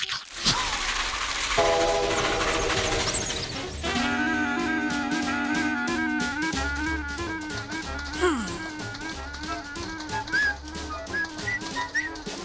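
Cartoon train from Felix the Cat, heard as a whistle or horn blast and chugging, rattling rail sounds mixed with tonal cartoon music and effects, fairly loud throughout.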